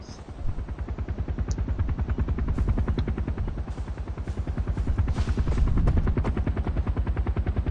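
A helicopter in the video game Far Cry 4 thumps with fast, even rotor beats throughout, loud and continuous as it passes overhead, with brief gunfire-like cracks layered on top.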